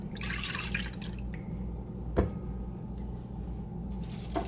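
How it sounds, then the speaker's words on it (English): Almond milk is poured into a bowl while making vegan lemon poppyseed muffins, a soft, close liquid pour with light trickling and one small splash, heard over a steady background hum. "So we're going to put our milk, and since we're making this recipe vegan, we're using almond milk."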